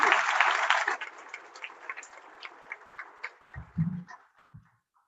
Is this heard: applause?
yes